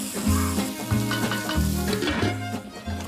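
Prawns frying with sesame paste in a pan, a steady close sizzle with repeated bursts of crackle and stirring scrapes, no talking.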